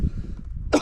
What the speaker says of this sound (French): Moi ça me fait tousser aussi.